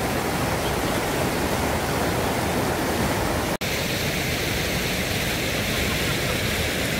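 A clear mountain stream pours down over a waterfall into a diving pool in a Gapyeong valley, producing a steady, loud, broadband rushing roar that continues unbroken apart from a split-second cut midway.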